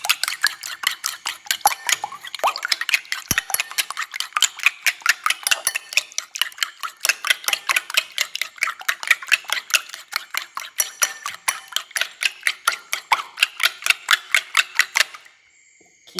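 An onion mixture with salt and pepper is stirred briskly in a bowl, a fast, even run of close clicking and tapping strokes for about fifteen seconds before it stops.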